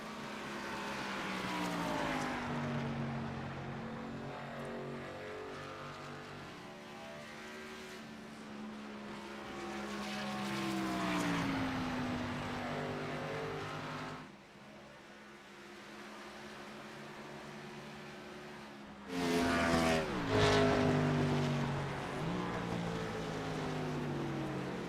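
A race car engine at Indianapolis is held at full throttle, a sustained, fairly faint whine that rises and falls in pitch with a brief dip partway through and a louder surge near the end, no voices.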